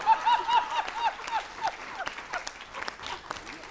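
An audience at a Hindi poetry recital breaks into brief clapping and laughter, with a speaking voice at the start, then a scattered, fading patter of claps.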